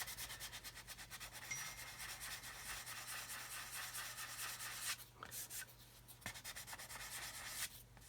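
Filler is sanded on the trailing edge of an Airfix 1/72 Vulcan model with very faint, fast rhythmic rubbing strokes, with brief pauses and light knocks partway through and no voices.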